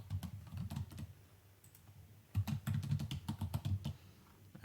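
Close, quiet keystrokes on a computer keyboard as a password is typed, in two short bursts of rapid clicking separated by a brief pause.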